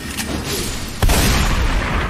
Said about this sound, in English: That is indeed a fucking glintstone shotgun!